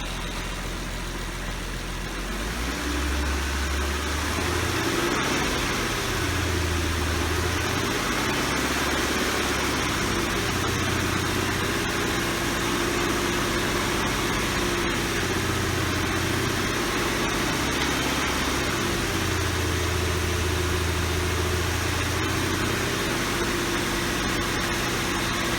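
A 2008 Infiniti G37 engine, just back together after timing chain and gallery gasket repair, runs steadily at about 2,000 RPM with a constant low hum and slight rises and dips, heard close and alone.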